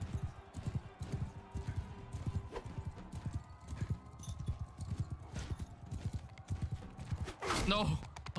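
Rapid clip-clopping hooves over a busy Mount & Blade II: Bannerlord game soundscape, with a horse whinnying near the end and scattered impacts.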